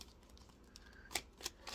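Soft, quick riffling and papery flicks of tarot cards being shuffled, a few sharper snaps standing out, quiet and close.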